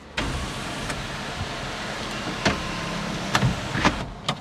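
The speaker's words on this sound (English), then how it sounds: "I'm going to close the sunroof." A panoramic sunroof on a 2022 Toyota Urban Cruiser Hyryder strong hybrid SUV closes, with a steady electric motor whir heard inside the cabin and a few soft clicks and thumps as the panels settle.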